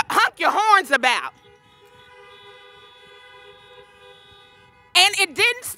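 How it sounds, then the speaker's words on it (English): A car horn gives one long, steady honk lasting several seconds, quieter than the voices around it, with a person speaking just before and after at an outdoor Selma unity breakfast gathering. "That's something to honk your horns about."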